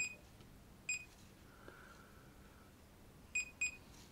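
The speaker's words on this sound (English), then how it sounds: "Beep every time we press the button." Short high electronic beeps from a Chinon Info Back DB-010 camera data back sound at button presses, one alone and then a quick pair, faint over a quiet background hiss.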